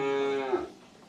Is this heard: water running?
no